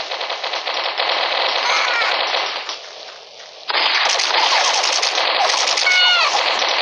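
Loud, continuous machine gun fire in the mobile shooter game Mini Militia, a dense rattling stream that breaks off briefly and then resumes just as fiercely.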